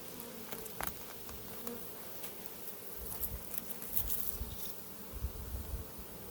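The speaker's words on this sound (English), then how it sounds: "So there's a lot of bees flying that belong in this box" Soft buzzing of many honey bees in flight around a swarm trap box, faint and fluttering, with occasional closer passes over a quiet outdoor background.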